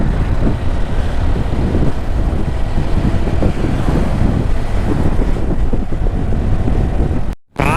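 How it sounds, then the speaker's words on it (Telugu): Very strong wind in Annamayya district, formerly Kadapa, strong enough to push a bike backwards, blasting the microphone with a loud, unbroken rumble and gusty buffeting right up close, with no one talking. "గాలి అయితే బీభత్సంగా ఉందప్పా."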